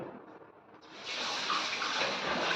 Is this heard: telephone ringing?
no